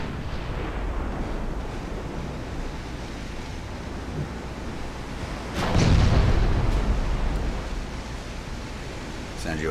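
Warship guns fire in the naval battle game Ultimate Admiral: Dreadnoughts. A single heavy boom rolls out midway over a steady wash of sea-like noise, with faint distant reports around it.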